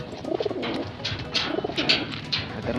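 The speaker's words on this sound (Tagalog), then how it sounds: "dito si Tropa, kakarga na natin yung 5 ibon natin" Five pigeons coo in soft, repeated throaty phrases while being loaded for training, close by and overlapping, with faint background noise.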